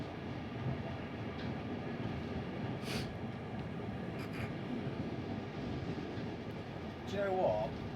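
A passenger train hauled by a Class 55 diesel locomotive produces a steady interior rumble of running wheels, with occasional brief clanks and faint voices underneath.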